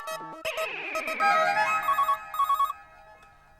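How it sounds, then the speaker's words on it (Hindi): A telephone rings on an outgoing call to a school, with a bright electronic ringtone melody and repeated chirping tones that play loud and alone without any talking. "हाँ सॉरी हाथी भाई, मैं क्या है दरअसल स्कूल में ही फोन लगा रहा हूँ।"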